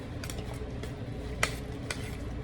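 Whole tomatoes are stirred in a pan while making oven-baked penne lasagna, a quiet low sizzle with a few sharp scraping clicks of the utensil, close and with no talk.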